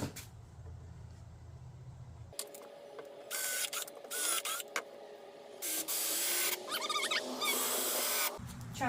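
A power drill whirs in repeated bursts, driving screws into wood boards with high-pitched grinding and ratcheting, starting and stopping several times against a steady background hum.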